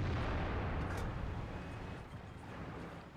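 Tank cannon fire in World of Tanks, a heavy sustained rumbling boom of gunfire and impacts against a KB5 tank, loud and continuous with a low roar filling the whole stretch.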